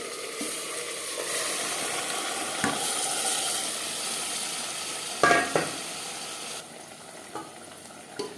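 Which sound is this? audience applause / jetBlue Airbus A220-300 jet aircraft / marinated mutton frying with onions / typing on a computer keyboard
marinated mutton frying with onions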